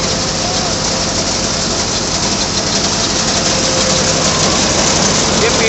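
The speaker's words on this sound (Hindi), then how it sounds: "सोनालिका की थ्रेसर मशीन है, बड़ी हड़म्बा मशीन है ये" A Sonalika thresher driven by a small Mahindra B275 tractor at low RPM, a loud, continuous, dense mechanical roar with steady grinding that never lets up.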